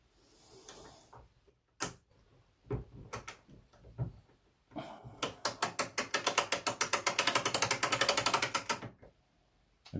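Mainspring of an alarm clock being wound by hand, its ratchet and pawl clicking in short bursts, then a long, fast, steady run of close, crisp clicks.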